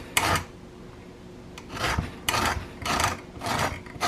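An organic lemon rasped against a metal grater for zest, making a series of four or five scratchy strokes in an uneven rhythm, close up and fairly quiet, with no talking.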